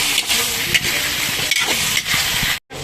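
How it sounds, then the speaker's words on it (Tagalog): Tomatoes cook in a pan before shrimp paste is sautéed, a loud close sizzle of frying with stirring scrapes and clatters throughout, ending in a sudden brief silence. "So, lulutuin muna natin ang mga tomatoes bago natin i igisa ang ating alamang"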